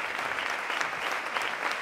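Dense, steady clapping from an audience fills the whole moment, a continuous loud patter of many hands.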